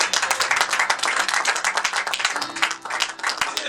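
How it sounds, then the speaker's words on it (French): A church congregation claps in dense, rapid unison, a busy wash of overlapping hand claps that stays loud and continuous. "On acclame Jésus"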